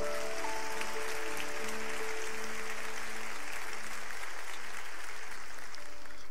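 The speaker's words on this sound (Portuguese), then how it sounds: "Você pode aplaudir ao Senhor." A church congregation applauds during a worship service, a steady wash of clapping that sounds distant and fairly faint, with sustained musical tones beneath it.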